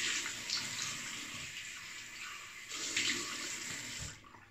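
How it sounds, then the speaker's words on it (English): Cold tap water running into a sink for a rinse after a wet shave, a steady close hiss that swells and eases before cutting off at the end. "Quick cold water rinse."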